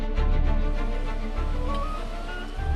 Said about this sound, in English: That is the sound of this actuator starting up,